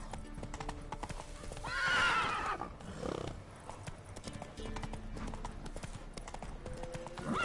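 Roach, Geralt's horse in the video game The Witcher 3, gallops with fast, steady clip-clop hoofbeats and gives a loud whinnying neigh partway through, over a continuous game soundscape.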